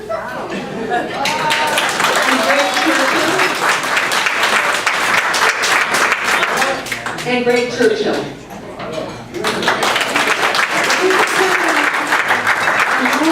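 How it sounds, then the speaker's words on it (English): Audience at a Lions Club officer installation ceremony applauding award nominees, sustained loud clapping from a crowd that dips briefly and then swells again, with a voice speaking over it. "And applaud these individuals"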